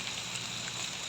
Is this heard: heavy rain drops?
yes